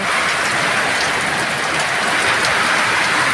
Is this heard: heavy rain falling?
yes